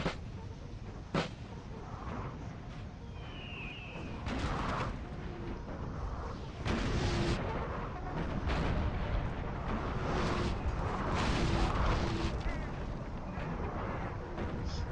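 Artillery fire booms repeatedly through a Napoleon: Total War online battle, with dull, distant cannon reports and a steady rumbling battle din throughout.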